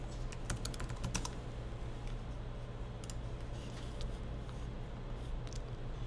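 Surnames are typed on a computer keyboard into a form field, quick bursts of clicking keystrokes early on, then scattered single taps over a steady low hum.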